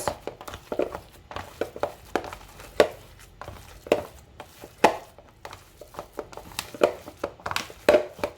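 Beef goulash ingredients being mixed by hand in a bowl, giving a series of close, irregular wet squelches and slaps spread across the clip with no talking.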